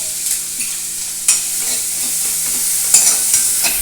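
Capsicum frying in butter in a pan, a steady close sizzle with scraping stir strokes at intervals, without any voices.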